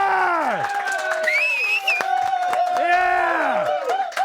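An audience at a live show claps and cheers for a rock band, with loud whoops and yells rising over continuous applause close by, all mixed together at full volume.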